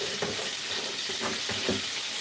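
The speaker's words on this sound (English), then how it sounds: "the chicken is frying" Chicken sizzles and crackles steadily in a frying pan at a home stove, with faint stirring or clinking beneath the continuous hiss and no talk.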